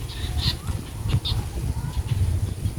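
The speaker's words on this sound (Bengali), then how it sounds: "আর এত সুন্দর পাখির ডাক শুনতে পাচ্ছেন?" Birds call on a small home farm among fruit trees, a few short, fairly faint chirps rising over a low, rumbling outdoor background.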